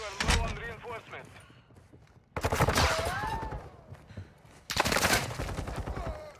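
Gunfire in Modern Warfare 2 ranked play on a Control map, loud rapid bursts of automatic fire coming in three separate waves, with a player talking over the shooting.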